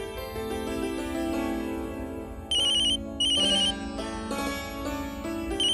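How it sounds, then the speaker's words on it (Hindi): A phone ringtone plays loudly and alone, a melodic electronic tune with repeating bright beeping notes in short bursts. "वर्षा का फोन है।"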